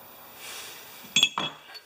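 Metal center punches clinking against each other as they are handled: a couple of sharp, close metallic clinks near the end, after a quiet stretch.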